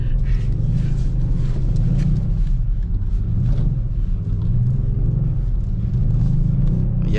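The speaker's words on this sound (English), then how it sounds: "Yeah, she's drifting real good." A Kia Stinger GT2 AWD drifts through snow during a winter storm, its engine a loud, steady low rumble heard from inside the cabin, with throttle swells and the hiss of tires in snow.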